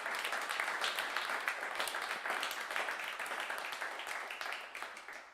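Applause from the studio audience of a live radio music show, a steady patter of many clapping hands at moderate distance, tapering off slightly near the end.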